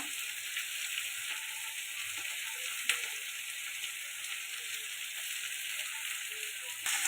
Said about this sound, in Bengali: টমেটো এটা ভালো করে কষাতে থাকবে দিয়ে দেবো আদা রসুন বাটা